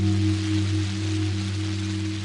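Cartoon rain effect: a steady, loud wash of falling rain, continuous for the whole stretch, joined by sustained low tonal hum lines beneath it, with no voices.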